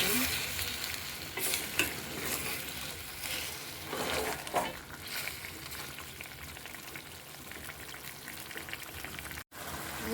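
Ash gourd pieces stirred in sugar syrup for chal kumrar morabba, a steady close scraping and sizzling bubble that runs the whole time with a few louder stir strokes, no voices.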